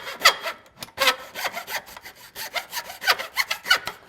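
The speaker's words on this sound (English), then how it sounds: "it does a fine job for hand power miter saws like this" Hand miter saw cutting a small wood workpiece, with a series of quick rasping back-and-forth strokes, close and fairly loud, in an uneven rhythm with short pauses between bursts.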